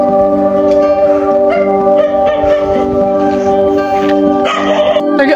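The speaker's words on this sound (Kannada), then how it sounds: "ಕಪಿ ಸೈನ್ಯಕ್ಕೆ ಇಲ್ಲಿ ನಾಯಿ ಒದರಾತಿ." A dog barks and yips at Parasagad hill fort near Savadatti, where monkeys roam. The barks are mixed into loud, steady tonal background sound, with someone talking nearby.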